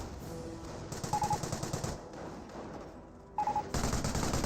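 An MG42 machine gun in the Company of Heroes video game fires rapid, rattling bursts: one long burst, a pause, then another burst starting near the end, loud against quieter battlefield background.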